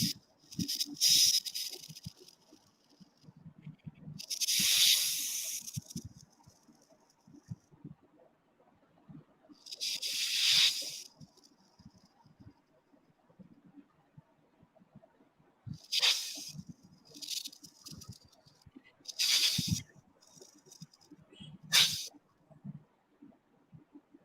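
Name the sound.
storyteller imitating a snake's hiss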